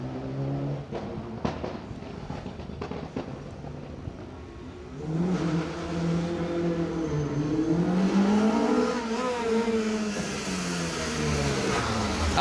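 A Mitsubishi Evo 9 rally car running anti-lag on an asphalt stage of the Manx Rally: a burst of sharp pops and bangs, then a loud, rising engine note that revs and swells as the car passes close by.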